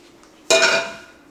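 Food is tipped from a pot into a skillet while making chicken timballo: one sudden clattering, metallic scrape and clink of cookware that starts loud and fades over about half a second, with no talking.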